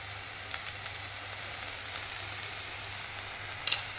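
A gourd dish with turmeric sizzles steadily in a frying pan, a constant close hiss with a couple of faint scrapes from stirring and a brief clink near the end.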